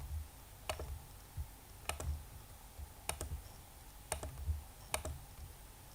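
A computer mouse clicks in five evenly spaced double clicks, close and crisp against a quiet room.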